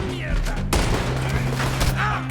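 Gunfire in the video game Red Dead Redemption 2, a dense, loud fusillade of shots over constant game background noise, with a low hum and a few sharp cracks standing out.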